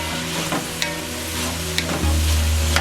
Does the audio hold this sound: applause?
no